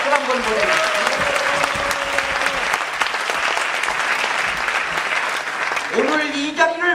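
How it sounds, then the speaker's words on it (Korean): Audience applause for a professor at a Korean public rally, a dense, steady wash of clapping from a large crowd that fills the whole stretch, with a voice speaking over it at the start and again near the end. "기롱펀 교수에게 박수 한번 보내주세요"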